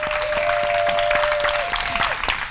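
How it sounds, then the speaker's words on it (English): An audience at a holiday closing ceremony claps for the event helpers in a quiet, steady patter, while a faint sustained tone runs beneath and a voice is briefly audible. "we give them a round of applause thanking them"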